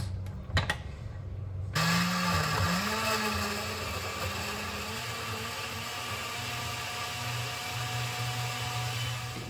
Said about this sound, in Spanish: y ahora sí, licuamos